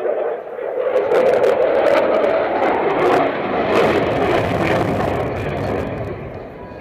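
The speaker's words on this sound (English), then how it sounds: "Watch as the aircraft enters from your left, rolls into a 90-degree angle bank" A Boeing F/A-18 Super Hornet roars past at an air show in a tight 90-degree banked turn, its loud jet noise swelling and then holding steady, with a commentator talking over it.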